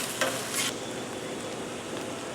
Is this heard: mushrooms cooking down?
yes